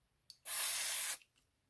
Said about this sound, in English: Let's use some contact spray on the connector.